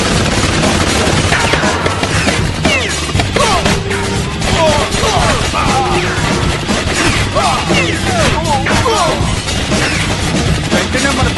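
Frantic animated gunfire from Killer Bean, with rapid bursts of shots, crashes and ricochets packed densely across the whole stretch, loud and close, with brief shouting mixed in.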